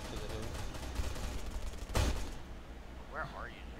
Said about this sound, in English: Everybody's shooting him!